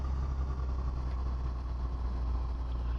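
Aircraft engines run steadily in the Coastline Flight Simulator game, a constant low, loud drone with a faint higher whine on top, holding even through the whole stretch with no speech over it.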